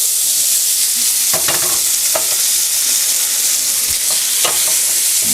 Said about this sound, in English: the spaetzle in butter, which I'm browning on purpose